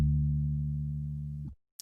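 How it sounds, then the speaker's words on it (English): An Omnisphere Dark Zimbira Toothbrush sample played on a synthesizer: a single steady, low, humming tone that holds for about a second and a half, then cuts off, followed by a brief bright blip at the end. "I've loaded up a sample from the Omnisphere sound sources called Dark Zimbira Toothbrush"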